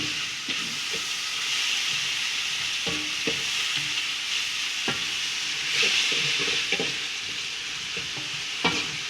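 Tomatoes and vallarai (Indian pennywort) greens fry in a pan with a steady, close sizzle, broken by repeated scraping knocks as the mixture is stirred.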